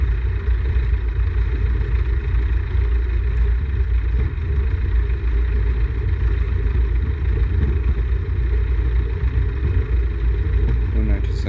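A tail-dragger light aircraft taxis down runway 03 while backtracking, its engine giving a steady, close, loud drone with a low throbbing rumble that never lets up.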